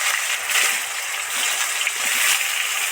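Purul vegetable dropped into hot oil already frying with a bay leaf and dried red chillies, giving a loud, continuous hissing sizzle that holds steady throughout.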